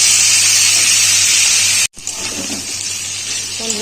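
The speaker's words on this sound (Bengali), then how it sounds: "এই আলুটাকে ভেজে নেব" Potato pieces fry in hot oil with turmeric and salt, a loud steady sizzling hiss close up, briefly cut off before resuming with faint clinks of stirring.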